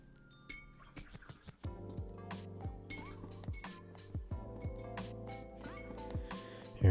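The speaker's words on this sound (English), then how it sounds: "Here, rinse off my brush." A paintbrush clinks and taps against a glass water jar during rinsing, a series of bright ringing knocks with short pauses between, close and fairly quiet.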